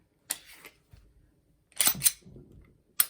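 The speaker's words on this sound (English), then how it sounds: "Put your mag in there." A magazine goes into an S&W 9mm Police and Military Edition pistol, giving a few sharp metallic clicks and a slide of metal on metal, close and distinct, with short quiet gaps between the handling noises.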